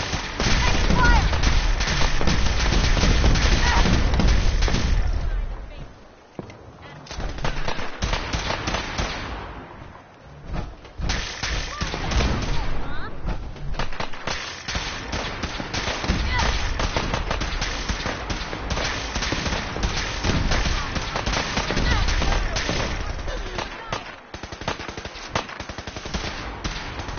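Fallout 4 gunfire rattles in long automatic bursts and scattered shots, loud and sustained, broken by brief pauses, with game voices calling out over the shooting.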